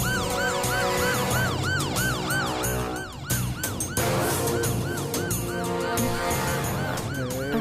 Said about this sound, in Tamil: யோ, என்ன சைரன் சவுண்ட் கேக்கல?